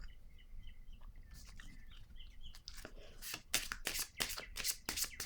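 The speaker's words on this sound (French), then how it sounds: "Je vais piger une autre carte ici." Playing cards are drawn and shuffled from a deck, crisp riffling and flicking bursts growing denser in the second half, with faint bird chirps in the background.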